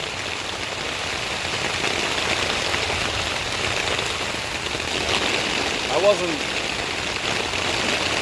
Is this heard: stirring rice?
no